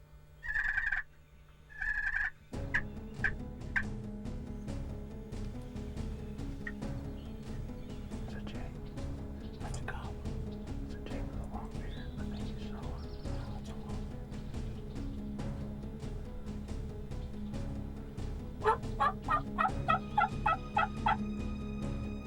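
Wild turkey gobblers gobble repeatedly across a plowed field in Ohio during a hunt, the loud rattling calls coming in bursts near the start and again toward the end over steady background noise.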